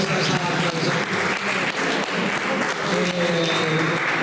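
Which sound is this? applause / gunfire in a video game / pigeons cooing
applause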